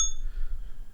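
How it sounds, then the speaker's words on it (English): A small bell struck once with a bright, clear ding that rings and fades within a second over low background hum. "Why do you have a bell?"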